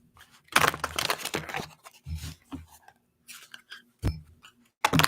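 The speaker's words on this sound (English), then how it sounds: "let's just make sure that we get a nice shuffle for Aquarius." A deck of tarot cards is shuffled by hand in a quiet room, making several bursts of riffling and sliding with short pauses between them, close and fairly soft.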